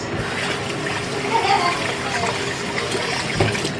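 Running water splashes steadily from a tap while hands are washed, a constant close gush with some faint background voices.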